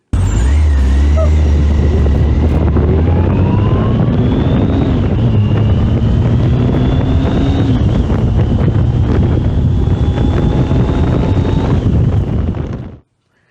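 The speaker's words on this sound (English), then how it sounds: "there is some wind noise, but you may also be able to hear my engine" A motorcycle engine revs up through several gear shifts, pitch climbing and dropping with each change, all under heavy, constant wind buffeting on the microphone until it cuts off abruptly.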